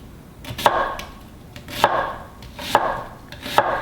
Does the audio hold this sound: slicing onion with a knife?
yes